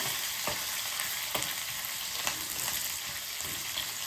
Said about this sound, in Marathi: आलं किसून घेतलेलं आहे ते थोडं आपण असं परतून घेऊया